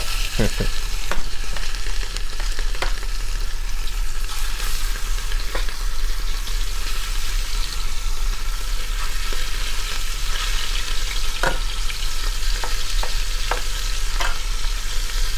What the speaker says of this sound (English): We can go ahead and drop our whole oxtails in.